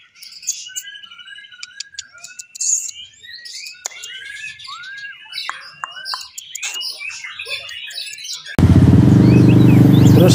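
A white-rumped shama (Murai Batu) sings nearby in a rich, varied stream of chirps, whistles and trills, loud and continuous, with a burst of broadband noise covering the last couple of seconds.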